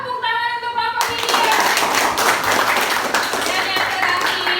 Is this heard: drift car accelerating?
no